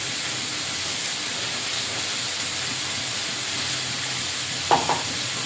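Vegetables seasoned with chili powder, turmeric and salt fry in a pan, a constant even sizzle throughout with a brief clatter of stirring near the end.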